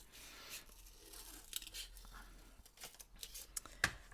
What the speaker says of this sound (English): Draw around, cut around the circle.